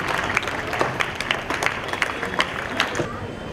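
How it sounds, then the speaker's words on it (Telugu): Churchgoers at a feast-day gathering clap to welcome Bishop Pula Anthony to the stage, a steady moderate patter of many hands with sharper individual claps popping through, and voices faintly audible underneath. "అందరూ చప్పట్లు కొడుతూ పీఠం ముందుకు ఆహ్వానిద్దాం"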